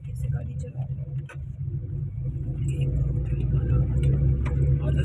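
A car drives along a village road with a steady low engine rumble that grows slightly louder, heard from close by, with people talking faintly.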